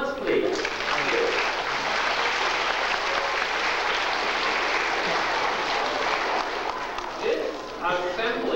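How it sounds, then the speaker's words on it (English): A large assembly crowd at walking program closing ceremonies applauds in a thick, continuous wash of clapping that holds steady for about eight seconds, with a few voices near the start and end. "Give yourself a little applause, please."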